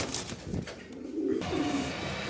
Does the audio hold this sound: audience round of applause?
no